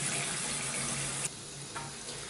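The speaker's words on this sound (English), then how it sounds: "let's get some water going" Water runs steadily from a household tap into a sink with a constant hiss, close and fairly loud, with a brief clunk midway as the flow shifts slightly softer.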